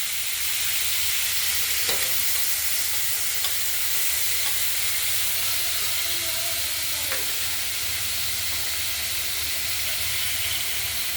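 Chopped tomatoes with a green chilli frying in a pan for a tangy-sweet small mola fish tomato chutney, a steady broad sizzle and hiss holding evenly throughout with a few faint clicks of stirring.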